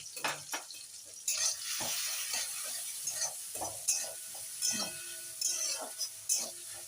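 Cumin and ginger paste stirred and frying in a pan for a vegetarian dhokar dalna, a steady close sizzle broken by repeated scraping stirs and light clinks of a spoon against the metal.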